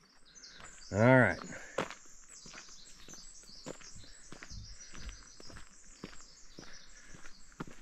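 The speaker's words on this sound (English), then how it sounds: "The birds are chirping." Birds chirping in the Olympic National Park rainforest just after dawn, faint scattered tweets over quiet footsteps on a trail, with a brief spoken remark near the start.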